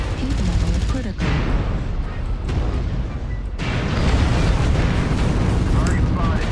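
Heavy booming explosions from an artillery strike in MechWarrior Online, a loud continuous barrage of blasts and rumbling impacts with brief drops between bursts, while synthetic cockpit voice alerts sound over the din.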